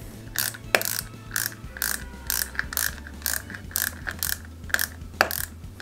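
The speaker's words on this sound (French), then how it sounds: "Et on va y mettre 4 vis AP à l'intérieur. Délicatement. Et je mets 4 vis AP." Small screws being driven into a Peugeot 205 GTI 1.9 model kit give a steady series of close, crisp ratcheting clicks in short regular bursts, with no talking.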